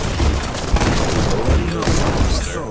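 Missiles and gunfire in the airship battle game Black Skylands, a loud, dense barrage of blasts and bangs rolling continuously with a voice talking over it.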